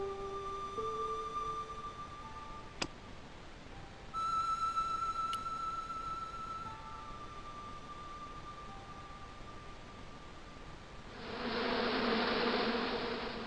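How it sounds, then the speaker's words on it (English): Hornets buzz inside a bush in the Broken Sword 2 video game: a steady insect drone threaded with thin sustained tones, swelling louder and rougher over the last few seconds. "here was a bush that was buzzing"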